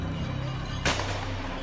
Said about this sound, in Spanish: Aquí es cuando recibe un disparo de beanbag en la cabeza.